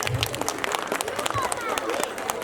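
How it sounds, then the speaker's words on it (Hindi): An audience applauds at a sangeet ceremony with brisk, dense clapping and a crowd murmur under it. A voice speaks over the applause. "एक बार जोरदार तालियां हो जाए"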